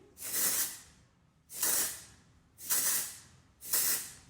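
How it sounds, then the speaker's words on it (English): Four short, close bursts of texturizing hairspray hissing from an aerosol at a steady rhythm, each lasting about a second with brief pauses between them. "a little bit of texturizing spray"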